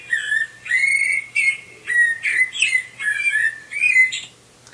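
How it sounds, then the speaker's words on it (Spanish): A real blackbird sings a clear, loud series of fluting, whistled phrases, each about half a second long, separated by short gaps, close and with no background sounds. "Otra vez mirlo."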